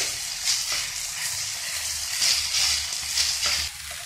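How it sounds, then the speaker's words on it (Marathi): Broken wheat roasting in a pan gives a close, steady frying hiss with brief swells as it is stirred, heard alone. "आता आपला हा दलिया भाजून झालेला आहे"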